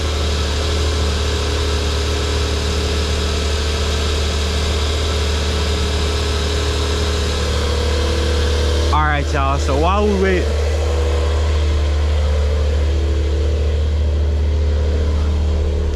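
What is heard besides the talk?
2021 Porsche 911 Carrera Coupe engine idling, dual exhaust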